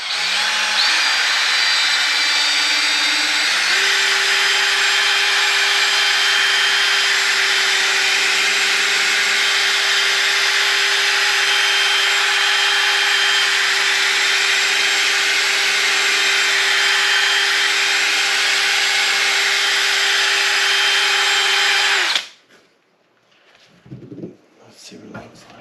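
A fiberglass cafe racer body for a Honda CB750 is buffed with rubbing compound, most likely under a powered polisher, giving a loud continuous whirring drone for about twenty seconds before it stops abruptly and faint handling noises follow.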